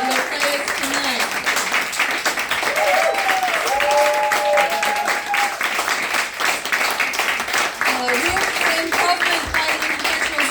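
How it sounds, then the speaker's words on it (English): Audience at an improv comedy show applauding the players, a dense sustained wash of clapping from a crowd that fills the room, with a voice speaking over it. "Please give a very large round of applause to Chuck and Matthias and David, your players tonight"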